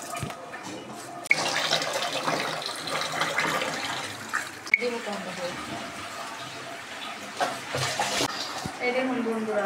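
Home-grown rice grains being washed in water, continuous splashing and sloshing with rushing water bursts throughout, close by, with some voice mixed in.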